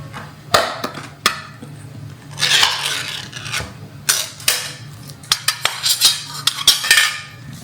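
Ingredients with Dijon mustard being mixed in a bowl with cutlery, close scraping and rubbing strokes broken by sharp clinks and taps in an irregular rhythm, fairly loud, with no voices.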